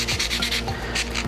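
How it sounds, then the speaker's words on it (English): Coarse sandpaper rubs a carbon fiber ski pole in quick back-and-forth strokes, a rhythmic raspy scratching repeated several times close up over a steady hum. "So we're going to take some coarse sandpaper to do this."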